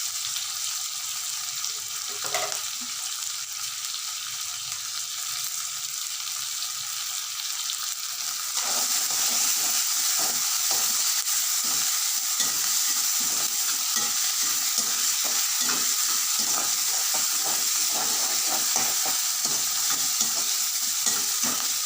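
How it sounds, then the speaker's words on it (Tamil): Tomatoes with salt sauté in a pan for hotel-style idli sambar. A hiss of frying grows louder partway through, then continues alongside dense, busy stirring and scraping, with no talking. "தக்காளி நல்லா வதக்கிட்டு இது நல்ல உப்பு போட்டுட்டா சீக்கிரம் வதங்கிடும்"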